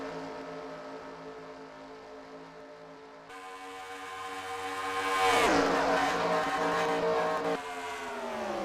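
Racing video game cars at Auto Club, including a Ford Fusion, roaring past in a steady high engine drone that swells as the pack closes in, then holds a sustained rising whine.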